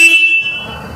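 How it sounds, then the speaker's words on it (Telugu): A Royal Enfield Hunter 350 motorcycle, 2023 model, sounds its horn once: a loud, sharp blast that cuts off quickly and leaves a faint rumble behind. "ఇది హారన్ అండి"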